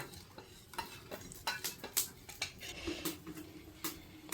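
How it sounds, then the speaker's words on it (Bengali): Spice masala is stirred with a little water in a bowl, giving a run of close, irregular scraping and clinking strokes from a spoon against the vessel, fairly quiet, with no voices. "এখন একটু জল দিয়া এখন আমি মশলাটা মিক্সড করে নেব"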